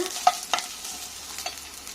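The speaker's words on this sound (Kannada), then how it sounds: "ಮಿಕ್ಸನ್ನು ಮೊದಲು ಬಾಡಿಸ್ಕೊಳ್ಬೇಕು ಈ ರೀತಿ ಸ್ವಲ್ಪ ಬಾಡಿದ ನಂತರ" A spoon scrapes and stirs a coconut masala mix in a pan a few times over a soft, faint sizzle, with brief clinking strokes.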